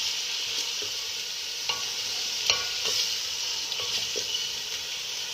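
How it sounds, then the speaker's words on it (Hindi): Onions sizzle in a pan while being fried toward golden for mutton aloo keema, a dense steady hiss broken by scattered spoon scrapes and taps, close and fairly loud with no voices. "अब हम इस प्याज को थोड़ा फ्राई करेंगे"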